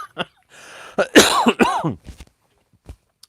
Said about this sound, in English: just cough all over the microphone